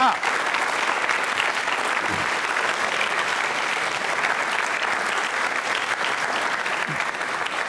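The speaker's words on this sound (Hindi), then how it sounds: "तालियां जोरों से बजाइए इस जानकारी के लिए।" A school quiz show audience bursts into loud, sustained applause that fills the hall evenly from start to finish, with a voice faintly underneath.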